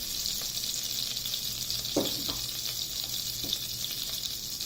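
Cloves, cinnamon and mustard seeds sizzle steadily in hot oil on a tawa, a constant bright hiss with a few soft pops and stirring taps. No voices are heard.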